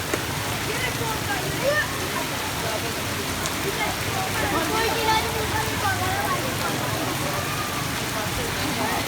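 Rain falling steadily during a storm, a constant close hiss and patter on surfaces, with people talking over it.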